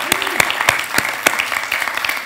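A congregation at a church service claps in welcome, with sparse, distinct hand claps close by, roughly a few per second, over a quiet room tone and no talking.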